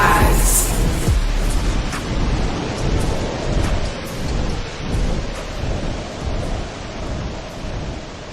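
Loud thunderstorm with heavy rain pouring steadily, deep thunder rumbling and rolling throughout, a sharp crack near the start, no voices.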